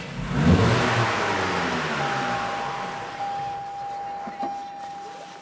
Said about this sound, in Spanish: a fondo, hasta unos 4000 revoluciones y luego a fondo y apagamos el motor